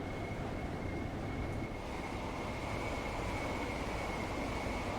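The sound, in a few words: train passing in video game Train Sim World 2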